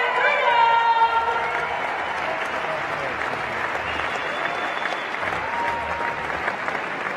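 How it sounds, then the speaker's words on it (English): Crowd applause and cheering at the 2018 CrossFit Games awards ceremony, a loud, sustained roar of clapping from a large arena audience, with a voice and a few whistles heard over it at the start. "Give it up for CrossFit Mayhem!"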